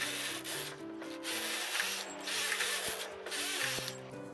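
A Brother Palie hand knitting machine carriage slides across in plain stockinette rows, making repeated rasping, rubbing passes with short pauses and faint mechanical clicks between strokes.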